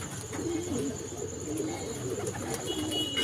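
Pigeons cooing nearby in a loft of young birds, soft repeated low coos over a steady background hum with faint chirps, no voices.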